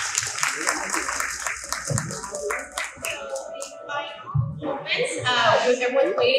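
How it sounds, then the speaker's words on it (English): Audience clapping for a panel at a summit, scattered and uneven hand claps mixed with talking and background voices, some music-like tones rising toward the end. "Round of applause."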